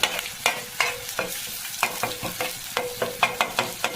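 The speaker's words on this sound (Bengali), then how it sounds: "এখন নিম পাতা একটু ভাজা ভাজা হোক" Neem leaves and chillies fry in a pan, giving a soft steady sizzle beneath repeated sharp scraping clicks of a spatula stirring at an uneven rhythm, close and moderately loud, with no voices.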